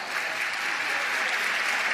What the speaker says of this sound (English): Round of applause from the crowd.